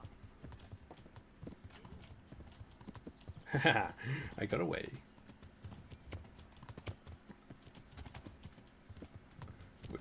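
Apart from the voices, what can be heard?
horse hooves galloping in video game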